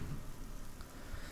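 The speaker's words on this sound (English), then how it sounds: "Lovely bit of rain to wash away the blood from all the zombies." Rain falls steadily in the video game Dead Pixels, a soft, even hiss of drops on surfaces, faint and continuous, with no voices.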